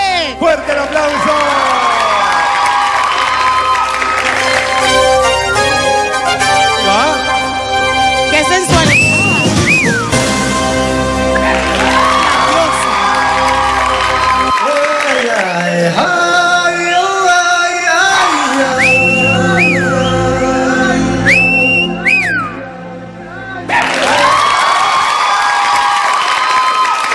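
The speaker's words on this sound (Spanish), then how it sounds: "¡Fuerte el aplauso!" On an Ecuadorian TV dance show, the studio crowd cheers, whoops and shouts at length over loud tango music, with an announcer's voice at times.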